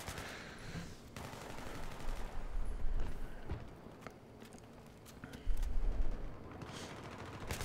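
Battlefield 3 gunfire, with bursts of shots at range against a steady game background, one louder stretch near the end and no speech.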